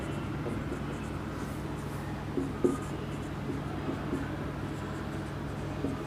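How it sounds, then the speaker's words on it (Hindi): Chalk or marker writing a date on a board during an accounting lesson in a classroom, a faint continuous scratching against steady room hiss with a couple of slightly louder strokes, no talk. "यहाँ लिखेंगे हम डेट"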